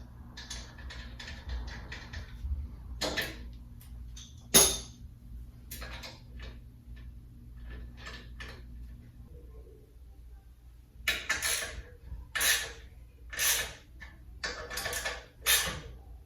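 Bolts on a Cobra slip-on exhaust being snugged up with a wrench, heard as quick clusters of metallic ratcheting clicks and clanks between quiet pauses, close and fairly loud.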